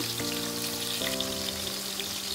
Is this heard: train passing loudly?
no